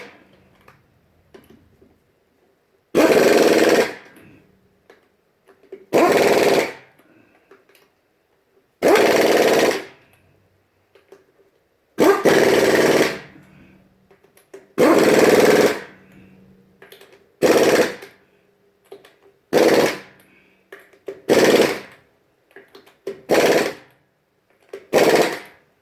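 A pneumatic impact wrench powered by a Porter Cable 30 gallon air compressor hammers in about ten loud rattling bursts of one to two seconds each, with quiet gaps between them and the bursts growing shorter and closer together toward the end.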